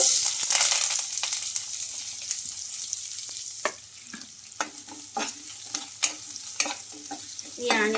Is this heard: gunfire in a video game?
no